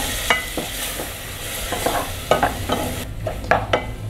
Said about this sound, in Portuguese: Vou colocar aqui um tomate picadinho.